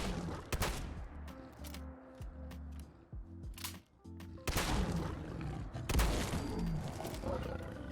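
Slug-ammo shotgun blasts aimed at a Deathclaw in Fallout 4, several loud, sharp shots at irregular intervals mixed with the creature's deep growls and roars.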